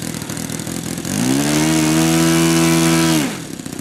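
An RC de Havilland Tiger Moth DH82a model plane with a Saito engine runs up from a low idle to a loud, steady high-revving drone for about two seconds, then cuts back down abruptly.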